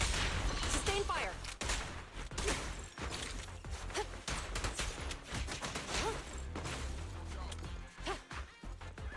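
Sustained gunfire rattles through a video game battle as a rapid, uneven string of sharp cracks and impacts, loud and close, continuing over several seconds with a voice speaking intermittently beneath it.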